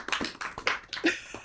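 Light hand claps from a small audience at a political gathering in Kenya, a brief scattering of uneven, fairly close claps.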